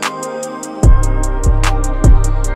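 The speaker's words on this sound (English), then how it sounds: "For example, let's start out with an open hi-hat." An FL Studio beat loop with an open hi-hat: bright hi-hat hits tick steadily over a sustained melodic pad, then deep booming kicks enter and repeat in a punchy rhythm, loud and upfront.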